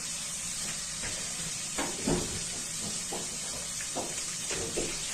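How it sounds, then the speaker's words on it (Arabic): Boiled meat fries in oil in a pot, a steady close sizzling hiss with scattered soft stirring scrapes and bumps throughout. "هسه راح نحمسه زين. خلينا الزيت بنفس الجدر"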